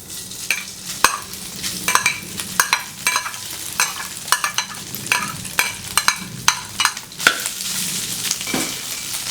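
Salted pork cracklings are stir-fried in a pan for a chili paste, with steady rhythmic scraping and clacks of the spatula against the pan over a continuous sizzle, close and fairly loud.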